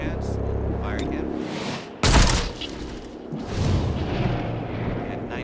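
Gunfire from the XCOM: Chimera Squad video game: a sharp, loud blast at about two seconds stands out from a busy rumbling game backdrop, with further muffled booms after it and a voice talking over the mix.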